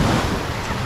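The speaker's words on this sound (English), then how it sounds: "Oh, big wave." Big ocean wave breaking on Waikiki Beach in Honolulu, a loud close wash of surf with wind buffeting the microphone, no talk.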